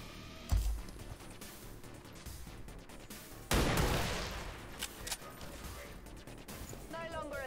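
Gunfire from a standard rifle shot in the XCOM 2 War of the Chosen strategy game, with a sharp report near the start, then a longer booming crash and impact noise, set over game ambience.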